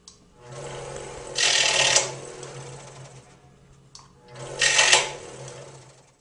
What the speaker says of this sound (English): I'm going to cut the strips into pieces about 1/4 inch long.